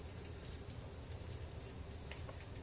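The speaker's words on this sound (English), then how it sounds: "I think you guys can probably hear it's raining pretty heavy outside right now." Heavy rain falls outside, a faint, steady hiss of dense drops heard indoors from a distance with no talk.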